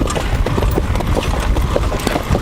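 Rapid hoofbeats of a horse pulling in harness clip-clop steadily over a constant rumble of movement and rattling gear, loud and close throughout.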